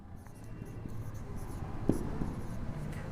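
A pen writes on paper while a triangle-theorem geometry proof is set down, close scratchy strokes in short bursts with a few sharper taps, fairly quiet and alone.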